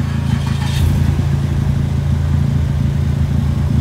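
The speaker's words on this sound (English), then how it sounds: "And of course, it decided to puke its muffler. Some sort of an exhaust leak happened." A car whose exhaust has separated at the muffler makes a loud, raw rumble. A steady, throaty engine drone sounds close and continuous for the whole stretch, with no talking.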